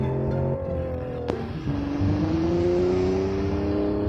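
A car engine in BeamNG.drive accelerates from a standstill, its tone climbing smoothly and steadily in a loud, close, sustained whine with a brief click partway through.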